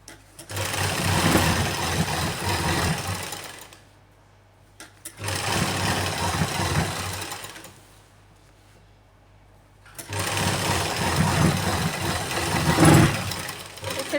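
A sewing machine stitches the lining of a salwar in three long, steady runs, whirring loudly up close with quiet pauses between bursts.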